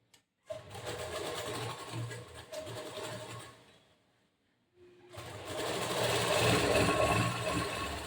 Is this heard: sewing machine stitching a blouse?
yes